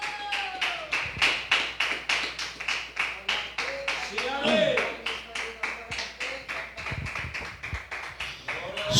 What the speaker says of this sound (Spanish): Denle una ofrenda de aplausos al Señor